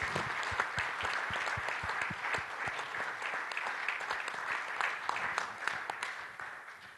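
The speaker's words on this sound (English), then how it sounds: "I think we should give a round of applause for Ronnie Turcotte" Audience at a horse racing symposium panel gives a sustained round of applause in memory of a late jockey, crisp individual claps audible within the steady crowd clapping, tapering off near the end.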